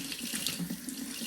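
Tap water runs steadily into a sink to wet a makeup sponge, a continuous close hiss and splash with no speech.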